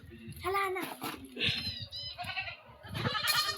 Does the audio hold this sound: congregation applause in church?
no